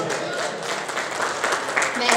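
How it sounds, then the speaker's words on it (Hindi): An audience at a poetry recital claps together in a soft, sustained patter, fairly distant, with a voice speaking over the applause. "एक बार तालियां बजा के इस्तेमाल करिए"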